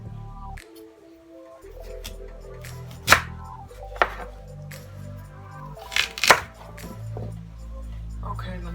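Sweet potatoes are chopped for a hash with a knife on a cutting board, giving several sharp, close knocks spaced irregularly over a low kitchen hum.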